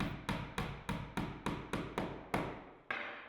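Cedar Impressions shingles being nailed at a gable: about ten sharp hammer strikes in a steady, even rhythm, each a loud close crack with a short ringing decay.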